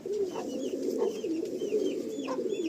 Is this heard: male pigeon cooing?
yes